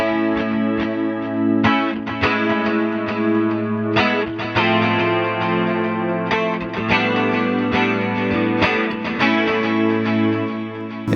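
An electric guitar runs through a Quad Cortex echo pedal on a clean tone, playing a steady chordal pattern with dense repeating echoes that fill the gaps between notes.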